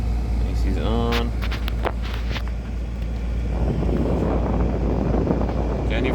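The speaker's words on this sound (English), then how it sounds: "Can you hear the sound of the wind here, the fans?" Inside a parked Kia Sorento, the air conditioning fans blow a steady, close broadband whoosh that continues throughout, with a few brief clicks near the start.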